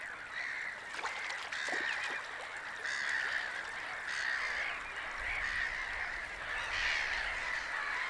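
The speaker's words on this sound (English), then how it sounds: "The biggest bird in the region is the mute swan." Wetland birds in the Polish wilderness give repeated honking calls. The calls are moderately distant, set against a steady outdoor background of other bird chatter.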